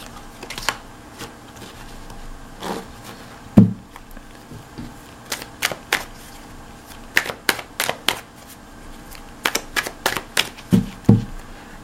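A broken-in tarot deck, its cards curved from use, being shuffled by hand in a run of sharp riffling bursts and soft card slaps, close and fairly loud, with quiet pauses between bursts and no talking.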